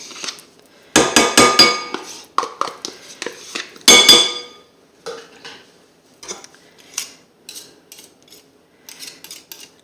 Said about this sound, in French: Nous allons y ajouter notre mascarpone.